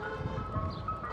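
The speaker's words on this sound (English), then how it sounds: "Seems like ice cream trucks are very popular in the Bronx." An ice cream truck on a Bronx street plays its steady tinkling jingle, close and continuous over low traffic rumble, with no voices over it.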